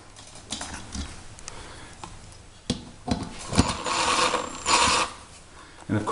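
Screws come out of a ceiling fan in short bursts of whirring and grinding with clicks and knocks in between, close and moderately loud against a quiet room.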